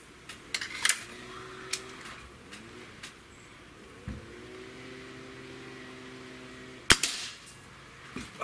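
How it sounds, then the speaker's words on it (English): A .30 caliber air rifle fires a single sharp, close crack, with a fainter click earlier and a low steady hum underneath. "And last but not least, shot number 5."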